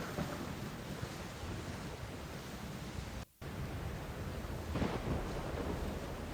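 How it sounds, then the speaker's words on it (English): Video game storm ambience plays as a steady, dense wash of rain-like rushing noise with low rumbling, briefly cutting out for a moment before resuming unchanged, with no voices. "There was also just storm sounds."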